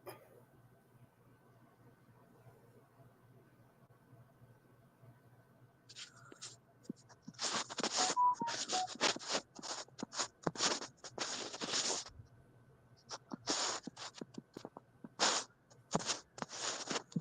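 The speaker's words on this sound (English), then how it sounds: "I'm typing, sorry." Keys on a computer keyboard clatter in quick, irregular bursts up close after a long quiet stretch, pausing now and then before resuming.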